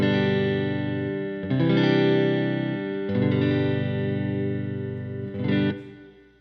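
A Fender Stratocaster through a Supersonic amp plays clean with added reverb. Strummed chords ring out in three or four sustained strikes, each decaying smoothly under a soft reverb tail.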